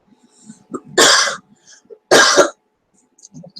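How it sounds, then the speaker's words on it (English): Two harsh, forceful coughs about a second apart, loud and close, with small mouth and breathing noises between them and no speech. "My cough's come back."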